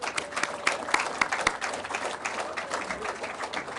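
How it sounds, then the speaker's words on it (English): Crowd applause at a Reform UK party conference in Essex, steady dense clapping from a large audience with a few sharp close claps standing out, sustained throughout. "Would all those seated please give a huge round of applause for everyone standing?"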